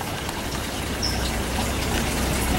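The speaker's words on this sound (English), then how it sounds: "I'm looking at a little man-made stream here with a lot of turtles in it" Water runs in a small man-made stream at a botanical garden, a steady, soft broadband wash that stays even throughout.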